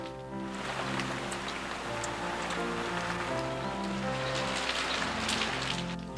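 Rain shower falling on a wooden covered bridge, a steady dense patter of drops on the roof and wood, continuous and close, with low sustained tones running underneath.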